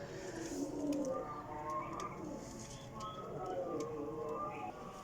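Golden pigeons cooing in a loft in Jhelum, with soft repeated low coos under a continuous hum and faint background voices.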